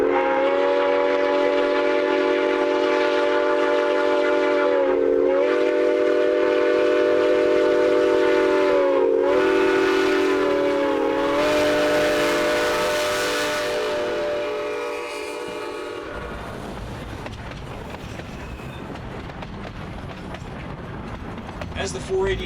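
A narrow gauge steam train's long horn sounds in several sustained blasts over a rumbling locomotive, then fades into quieter rolling rail noise as it moves past.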